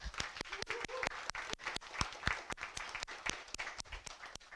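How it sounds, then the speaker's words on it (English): A small audience at a security panel discussion gives a round of applause for the speakers, sparse, distinct hand claps in an irregular rhythm, faint and somewhat distant. "one more round of applause for Anatol and Sabina"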